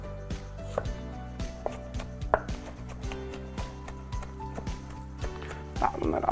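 A knife chops onion on a board in quick, uneven knocks, close and fairly crisp, with soft kitchen clatter and a few brief rustles, no talking.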